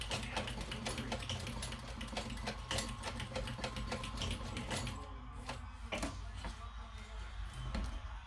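Sewing machine stitching across a strap fold with white thread for a Dayna Pack, a fast, steady mechanical clatter of needle strokes that runs close and continuous, then eases off and turns more sporadic toward the end.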